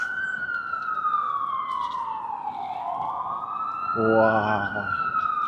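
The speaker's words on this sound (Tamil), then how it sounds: "ஆம்புலன்ஸ் சத்தம் ஒரே ஒய்ந்துக்கிட்டு இருக்கு" An ambulance siren wails on a street, sweeping slowly down and then back up, loud and steady above traffic noise. Near the end a voice speaks briefly over it.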